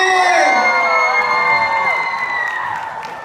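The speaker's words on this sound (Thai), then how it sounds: "ขอเสียงปรบมือ" A crowd at a birthday celebration for a Miss Grand Surin 2023 contestant cheers and whoops loudly with some clapping, bright excited voices rising together near the start and slowly fading over a few seconds.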